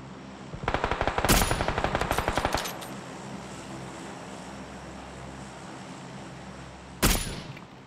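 Rapid automatic gunfire in PUBG: Battlegrounds rattles in a fast burst lasting about two seconds, then the sound drops to a low ambient hum before a single loud shot cracks near the end, with no talk.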